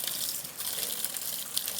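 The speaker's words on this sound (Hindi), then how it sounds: "सच में पानी है" Stream water gushes steadily at a river crossing in Karbi Anglong district, Assam, a close, continuous broadband rush with no voices.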